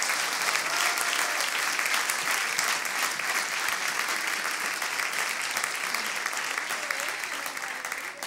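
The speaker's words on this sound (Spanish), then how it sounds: "Un aplauso para el hermano que está durmiendo." Steady, loud applause from a church congregation during a Sunday service, continuous clapping with crowd murmur holding at full level throughout.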